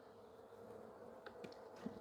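Agitated honey bees swarm around an opened beehive during an inspection, a faint but continuous high droning buzz with a few individual bees flitting past close by.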